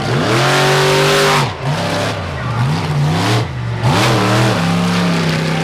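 A retro-bodied Bigfoot monster truck at a 4-wheel jamboree nationals in Indianapolis roars loudly and close, its big engine revving in repeated rising surges with brief dips between pulls.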